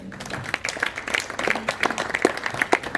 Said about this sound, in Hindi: तो एक बार तालियां हो जाए अपने लिए